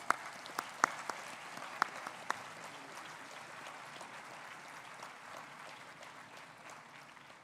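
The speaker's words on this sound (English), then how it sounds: "Please give them a round of applause." Audience applause at a start-up conclave at IIT Bhubaneswar, a soft, distant, steady patter of many hands with a few sharper claps near the start, gradually thinning toward the end.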